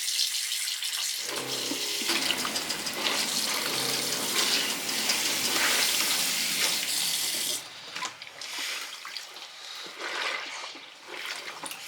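Laundry gets a second hand rinse aboard a sailboat, water gushing and sloshing steadily in a basin with splashing cloth, then softer lapping and dripping toward the end; no voices.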